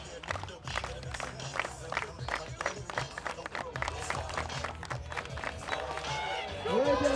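Stadium crowd at a shot put series event rising in noisy cheering and rhythmic clapping for American record holder Chase Jackson's second attempt at 65 feet, steady and loud throughout, with an announcer talking over it and a swelling yell at the end.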